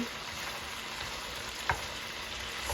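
Pork spare ribs fry in a pan in a steady, close sizzle with a soft crackle of spitting fat and one brief clink partway through.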